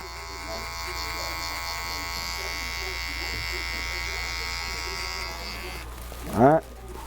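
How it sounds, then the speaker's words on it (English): An electric hair trimmer buzzes steadily and close during a self-cut bald fade, holding a constant hum for several seconds before a short, louder burst near the end. "Good time to go back to your trimmer real quick."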